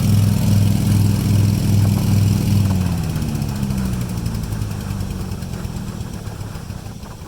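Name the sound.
engine of a mud pump running and dying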